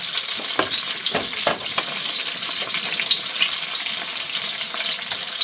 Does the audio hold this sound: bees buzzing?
no